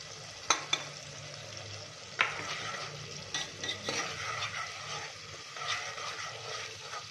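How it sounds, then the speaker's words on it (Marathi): Ground black masala fries with ginger garlic paste in hot oil, a soft steady sizzle broken by a few sharp clinks and scrapes of a spoon stirring against the pan. "चांगलं 1-2 मिनिटं परतून घ्यायचा मसाला।"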